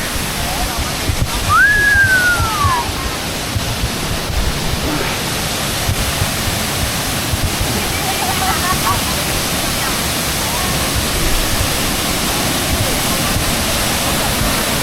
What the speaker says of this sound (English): the water looks like it's coming down quite heavy